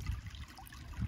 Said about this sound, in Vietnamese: dòng suối mang rất nhiều sỏi đá vậy